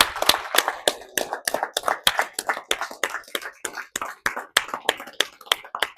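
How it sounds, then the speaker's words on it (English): Scattered claps ring out from a small audience of fathers, mentors and clinicians at a keynote talk, sharp distinct hand claps in an uneven rhythm, close and fairly quiet, with no talking. "So I want you guys to give yourselves a round of applause for showing up and doing the work."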